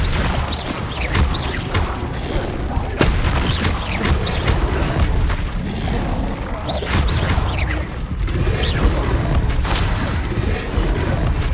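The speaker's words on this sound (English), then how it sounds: "Incendio." A fire spell in Hogwarts Legacy plays over a dense, busy game soundscape, with repeated booming and crashing bursts and crackling impacts that keep going the whole time.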